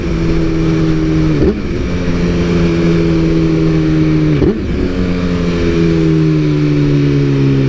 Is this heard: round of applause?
no